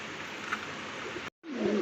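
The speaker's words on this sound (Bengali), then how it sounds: "ব্ল্যাক কালারের মধ্যে একজোড়া মুখী কবুতর" A pair of black mukhi pigeons coo softly, a brief low call rising over steady background hiss in a pigeon-keeping setting.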